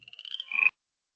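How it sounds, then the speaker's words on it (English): A recorded frog call, a short rising creaky trill like fingers run over a comb, loud and clear for under a second, then silence. "Frog."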